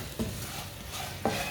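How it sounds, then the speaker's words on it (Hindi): Turmeric and spices frying with chillies in a pan, a soft continuous sizzle with two brief scraping stirs from a spoon, close and without voices. "आधी चमची हल्दी पाउडर डालेंगे। 1 मिनट के लिए पका लेंगे मसालों को।"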